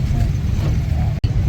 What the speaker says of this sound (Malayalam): നല്ല ട്രാഫിക്കാട്ടോ ഈ റോഡിൽ കൂടെ